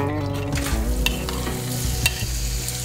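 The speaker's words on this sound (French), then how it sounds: "Donc on va mettre le tout sur la poêle" A mixed preparation with red chili cooks in a frying pan, giving a steady close sizzle throughout with occasional scrapes and stirring clatters, and no voices.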